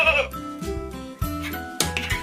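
A cartoon toy sheep bleats in a shapes-and-colors learning setting, with several wavering bleats in a row, loud and close, some overlapping a narrating voice.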